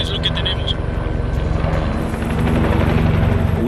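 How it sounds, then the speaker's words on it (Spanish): A helicopter flies low over an active volcano crater, its steady rotor thump and engine roar continuous and close, with faint voices beneath. "Mike le pidió a Craig que descendiera el helicóptero para poder ver la filmación"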